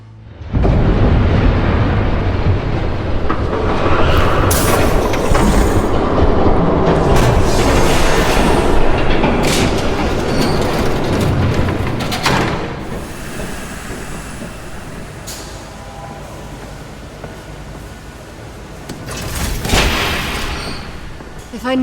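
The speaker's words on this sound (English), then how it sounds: "There's a train coming." A train thunders past in Batman: The Telltale Series, a loud, sustained roar with rattling and hissing that holds for about twelve seconds, then eases into a lower rumble before swelling again.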